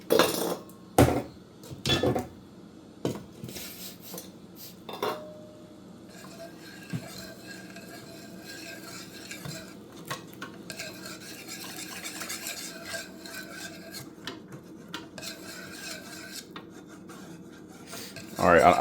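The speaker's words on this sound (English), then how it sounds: "Keep mixing so I know there's no more residue at the bottom and it's completely smooth." Rice noodle batter is stirred smoothly in a bowl, a steady scraping and swishing that runs for a long stretch after a few sharp utensil knocks at the start.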